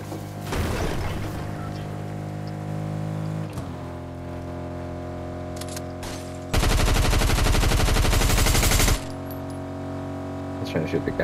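Sustained automatic gunfire rattles loudly in a fast, dense burst lasting a couple of seconds at a gas station in a video game, set over steady droning background music with scattered clicks and shots before it.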